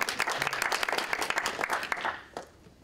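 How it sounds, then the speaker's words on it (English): A small group at a university economics debate applauds the debaters, a brief burst of scattered clapping that thins out and fades after about two seconds. "I'd give yourselves a round of applause for that."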